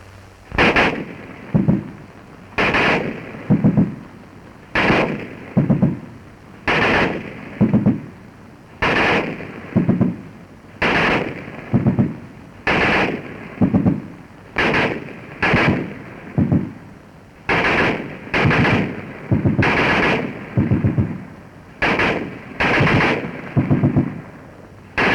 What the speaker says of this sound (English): we can hear the crack of the bullets as they pass overhead and the reports of discharge